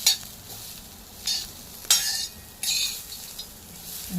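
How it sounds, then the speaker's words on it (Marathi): Green chilies roast in a hot pan for ridge gourd peel chutney, with soft sizzling and several scraping stirs of a utensil against the pan, close and clear. "मिरची पण बघा असे त्याला डाग पडेपर्यंत छान भाजली गेली आहे"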